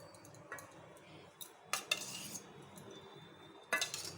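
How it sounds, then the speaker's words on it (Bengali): A spoon working yogurt into dough in a bowl while making jalebi, faint scraping and occasional sharp clinks of metal against the bowl, quiet and intermittent. "সেটাকেও ভালো করে মিক্স করতে হবে"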